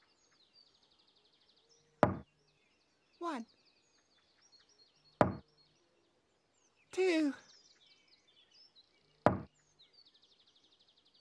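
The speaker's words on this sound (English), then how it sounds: "Tinky Winky knocked on the door." Three sharp, loud knocks on a door, spaced a few seconds apart, with a voice counting between them and brief chirpy sound effects, in a Teletubbies-style children's scene.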